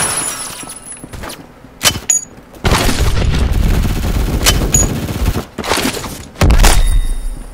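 In a Roblox shooter, grenade explosions and gunfire come as loud, dense bursts. Sharp cracks open the stretch, a long sustained roar of blasts and shots fills the middle, and a final heavy boom closes it.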